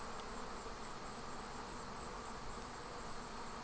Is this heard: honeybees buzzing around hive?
yes